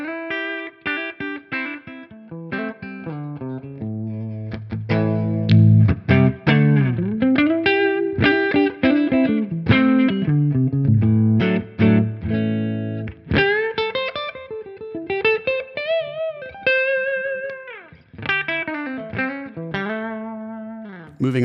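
Electric guitar played through an Archon 50 Tonex amp model with a custom impulse response of a 212 Vintage 30 cab recorded with a Cascade Fathead ribbon mic, lightly driven chords and riffs, close and clear with no talking.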